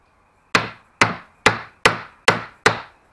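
A hammer driving nails into wood while building molds for a Smiths Marine pram dinghy: six sharp, evenly spaced knocks, loud and close, each ringing briefly before the next, with no talking.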